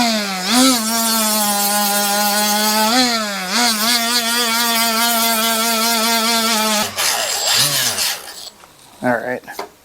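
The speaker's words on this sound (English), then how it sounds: "Now I'm just going to take my roll lock, Scotch-Brite like I said," A Roloc Scotch-Brite disc on a tool whines steadily while cleaning solder off the roof of a 1985 Buick LeSabre Estate Wagon. Its pitch dips under load, then it sputters and stops near the end.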